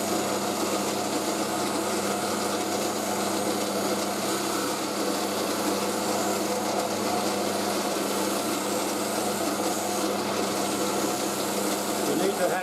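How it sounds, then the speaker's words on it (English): A polisher works over a spun pewter piece in a workshop, giving a steady broadband grinding whir that holds at an even, fairly loud level throughout with no clear breaks. "the line of the motion of the polisher is a bit different to one when it was being spun"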